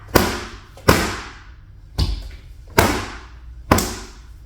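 Five sharp, loud thwacks of a Filipino martial arts stick delivering Labtik strikes into a target, spaced roughly evenly about a second apart, each a close impact with a brief decaying tail and no talk.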